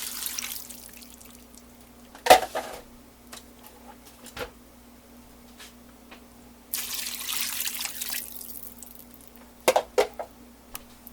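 Water splashes and pours into a pot in short bursts, with a few clanks and knocks in between, set against a quiet background hum.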